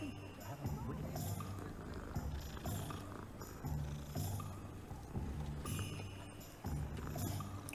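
A cat purrs while being petted in the video game Hogwarts Legacy. The low purr pulses in an even rhythm, close and steady, over faint background game sound.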